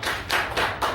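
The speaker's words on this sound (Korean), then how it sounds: "우리 하나님께 박수합시다" A church congregation clapping in unison during a Korean Sunday worship service, with steady rhythmic claps in quick succession that fill the room, loud and close, with no speech over them.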